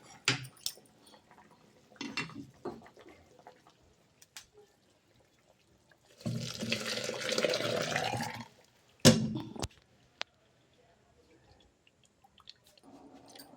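Hot water poured into broken rice grits in a kitchen pot, a rough splashing pour of about two seconds midway, with scattered clinks of utensils and drips before and after.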